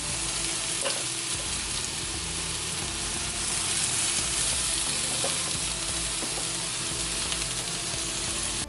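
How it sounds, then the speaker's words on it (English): Loud, steady sizzling of chicken searing in a hot pan, continuous crackle and spatter with occasional pops, close up and unbroken. "Now you know it's going to get a nice sear."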